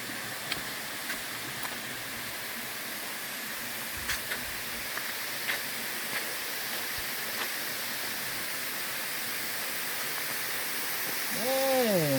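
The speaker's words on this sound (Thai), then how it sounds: "มาถึงแล้วครับน้ำตก น้ำตกเพียงดินครับ" Steady broadband rush of water at Phiang Din waterfall, a continuous even roar with faint scattered ticks, ending in a brief tonal swoop near the close.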